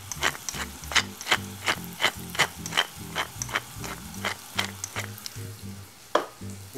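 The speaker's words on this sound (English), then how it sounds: "Just make sure that these tomatoes aren't sticking at all. Just want to fry nicely." Tomatoes fry in a pan, crackling and sizzling in a steady rhythm of sharp pops and scraping stir sounds, close and fairly loud with no talk.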